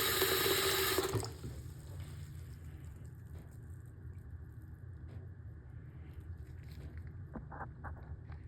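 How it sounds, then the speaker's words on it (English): Hot water runs hard from a tap into a sink for a moment, then cuts back to a quieter trickle and gurgle as it drains after a sink-and-drain cleaner, under a low steady rumble. "drain it with some hot water"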